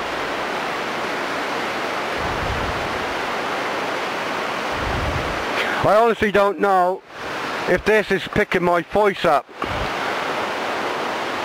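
Loud, steady rushing of waterfall rapids at Watersmeet at night, a broad continuous roar filling the whole clip, with someone talking over it partway through.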